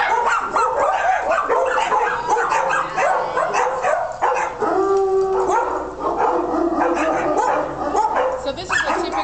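A large pack of dogs in a daycare play yard barking, howling and yipping in a dense, continuous, loud chorus, with a person speaking among the noise.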